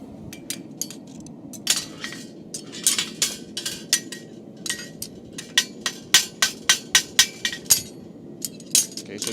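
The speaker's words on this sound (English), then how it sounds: "I'm going to use my hammer just to force that out" A farrier strikes a steel horseshoe clip with a hammer, sharp metallic clinks landing in irregular bursts that quicken into a fast run of even blows and then slow again.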